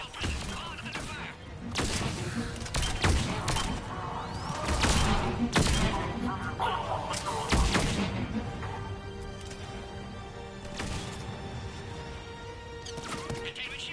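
Gunfire and impacts in the Mass Effect 3 video game come in sharp, irregular bursts during a heavy attack, loud thuds and cracks spread across the clip with voices talking between them.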